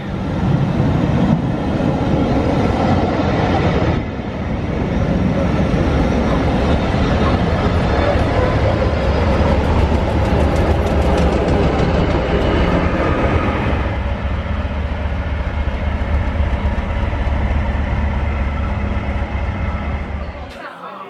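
A train on the Spa Valley preserved railway toward Tunbridge Wells rumbles steadily and loudly for a long stretch, a continuous rolling roar of carriages with a brief dip partway, like riding aboard on a summer evening.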